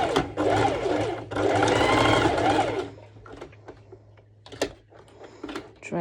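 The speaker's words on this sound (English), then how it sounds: "So I take the elastic band and I place it like that on top of each other underneath, and we'll be doing a straight stitch" A sewing machine runs a straight stitch through an elastic strap in two loud, steady bursts of rapid whirring, then falls quiet apart from a low hum and a few small clicks.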